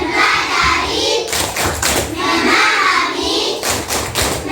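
Rhythmic unison claps from a group, including children, accompany a chanted 6M cheer closing a lesson; the claps land in clusters between sung-out words, loud and near.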